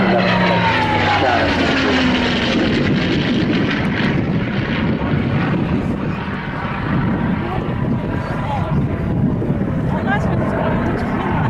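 A P-51 Mustang warbird propeller plane flies at an air show, a loud steady engine drone passing close under continuous commentary from an announcer.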